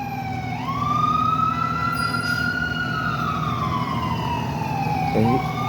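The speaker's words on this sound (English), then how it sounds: "There's an ambulance trying to get through it" An ambulance siren wails through traffic near a crash scene on a city avenue, a loud, close, slowly rising and falling tone over the rumble of idling vehicles, ending in a quick yelp.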